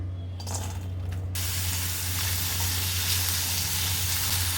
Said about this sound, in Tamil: இதே கடாயில் எண்ணெய் விட்டுக்கிறேங்க. இதில் பீக்கங்காய் தோலை வதக்கி எடுத்துக்கலாங்க.